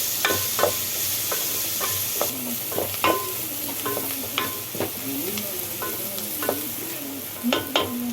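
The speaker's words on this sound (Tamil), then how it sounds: "வெங்காயம் நல்லா பொன் நிறமாக வந்தோடனே அப்புறம் தக்காளி போடணும்" Onions and tomatoes sauté in a pan for mutton curry, a steady sizzle running under repeated sharp scrapes and clacks of a spoon stirring against the metal, close and fairly loud with no talking.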